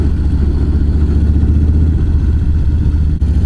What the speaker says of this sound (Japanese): エンジン音とかマフラー音が めちゃくちゃ気持ちいいの